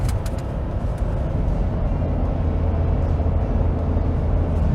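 Ford F250 pickup with the 7.3L Godzilla V8 towing about 14,000 lbs, its engine holding a loud, steady low drone at high revs under road and wind rumble, with no talking.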